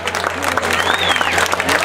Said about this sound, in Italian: Questo applauso